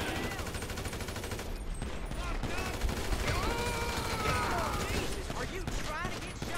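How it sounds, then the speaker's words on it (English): Dense gunfire from Grand Theft Auto V fills the scene, a continuous, loud clatter of rapid shots layered with mechanical effects and a rising, warbling tone, while a voice talks intermittently underneath. "I don't know if I'm shooting anybody."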